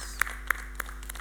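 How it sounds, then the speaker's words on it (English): A few sparse, isolated claps at a medical conference for overseas guests, three distinct hand claps over a steady low hum, faint and thin rather than a full crowd. "can we have a big applause to all our overseas guests for their time and deliberations."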